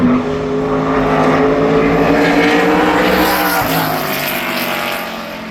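Several ARCA Menards Series race cars roar around Berlin Raceway during qualifying, a loud, steady multi-engine drone with layered engine tones that fade slightly toward the end.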